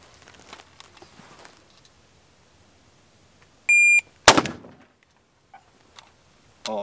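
Gunshots at a shooting range: an electronic beep, then one sharp, loud shot, followed by a couple of much fainter pops and quiet stretches.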